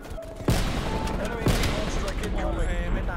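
Gunfire in Call of Duty Black Ops Cold War, with sharp shots and bursts sounding over a continuous loud background of game effects, and someone talking over the action.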